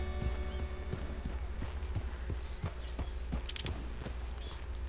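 Hooves of a grey Kentucky Saddler horse clop along at a walk in a video game, a steady rhythmic stride under a constant low rumble of background sound.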